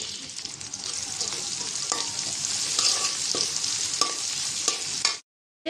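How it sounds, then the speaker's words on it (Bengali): Onions and green chillies fry with cardamom, cinnamon, cloves and bay leaf for a chicken curry, a loud continuous sizzle broken by regular scraping stirs, ending abruptly in silence. "এলাচ দারচিনি লং তেজপাতা দিয়ে দিলাম পেঁয়াজের সাথে ভেজে নেব"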